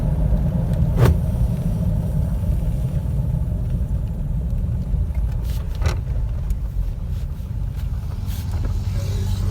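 A 1946 Dodge with Fluid Drive transmission pulls away and accelerates in second gear, giving a steady, loud, close interior engine rumble with road noise and a few faint clicks, and no voices.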